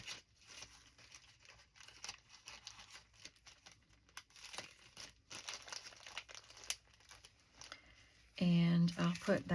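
Small paper pieces are handled and dropped into a snack-size plastic bag, with soft rustles under a voice before a loud crinkling burst of plastic at the end.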